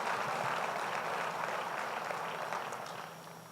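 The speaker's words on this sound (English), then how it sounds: "I think we should give them a round of applause as well" An audience at a Denver sustainability summit giving a round of applause, a dense steady clapping from a sizable crowd that tapers off near the end.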